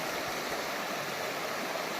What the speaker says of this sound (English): This is the West Fork Rapid River.